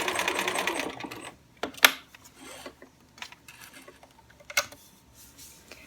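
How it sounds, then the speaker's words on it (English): Sewing machine stitching quilt binding strips with the presser foot lowered, running in short bursts with pauses between, close and clear, alone without talk. "I've lowered my presser foot, and I'm just sewing along that line, right on top of it"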